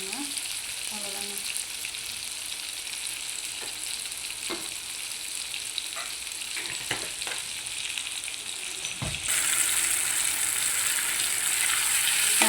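Garlic sautéing with a little salt in a pan for garlic chutney, a steady close sizzle with scattered soft clicks of stirring, growing brighter and louder in the last few seconds; no talking.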